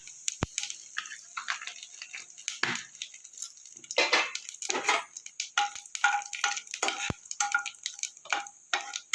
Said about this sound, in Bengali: তেলটা আমার গরম হয়ে গেছে এবার পড়ে দেবো একটু গোটা জিরে আর একটা তেজপাতা